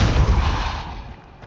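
The Depulso force spell in Hogwarts Legacy goes off as one short, loud, booming burst. A thick low thump fades over about a second and a half, and no voices are heard.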